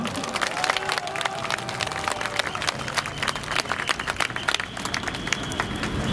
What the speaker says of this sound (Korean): 오늘 오신 경력 언론인들에게 박수 한번 보내주십시오.